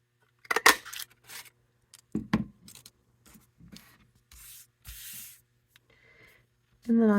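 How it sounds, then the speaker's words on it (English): A tree-shaped paper punch cuts a line of trees from scrap paper in a series of sharp, close snaps and crunches with short pauses between them. Light scraping and handling noises fill the gaps. "I'm just going to punch out on my scrap a line of trees."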